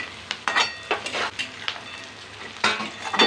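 Fried soybean chunks tossed with vegetables in a pan for soya chilli, several close scraping spatula strokes and clinks over a faint sizzle, no talking.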